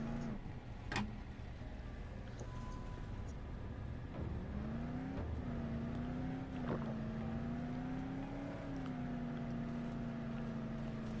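A car driving in Dead Island, a steady engine drone with its pitch rising and falling as it speeds up and slows, moderately quiet and continuous with a few sharp knocks.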